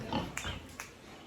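A big pig on a farm in Burundi, giving short grunts and snorts at close range with a few sharp higher squeal-like bursts, moderately loud against outdoor background.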